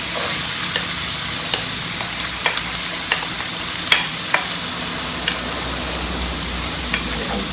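Yellow bell pepper sizzles in a hot frying pan while being stirred, a steady close hiss of frying broken by light scraping and clicks of a utensil, with no talking.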